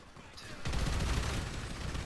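A minigun firing infinite explosive bullets in GTA V Director Mode: after a brief lead-in, a dense, loud, continuous roar of rapid fire and blasts fills the rest of the moment.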